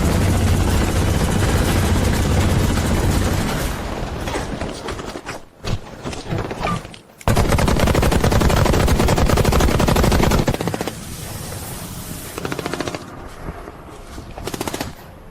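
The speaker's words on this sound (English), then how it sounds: "Machine guns, sweep them again." Sustained, loud, dense automatic gunfire from machine guns sweeping an enemy squad during a game battle, with a few short breaks and a quieter stretch near the end and no voices.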